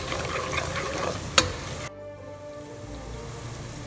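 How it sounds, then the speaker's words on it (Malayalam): Chili powder is stirred into a sizzling prawn pickle masala in a pan, the frying hiss loud with a sharp spoon clink before it quietens to a softer simmer. "നന്നായിട്ട് മിക്സ് ചെയ്തെടുക്കാം."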